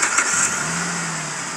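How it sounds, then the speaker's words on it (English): A Jeep engine starting, then running. A quick cranking burst gives way to a steady mid-pitched idle hum heard close by, with no voices. "So we turn the vehicle on."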